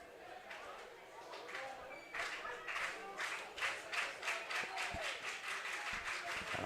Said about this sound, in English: The crowd trying to make their presence known